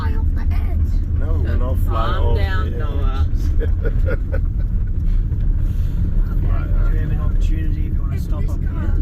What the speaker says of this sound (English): Well, that's way too windy.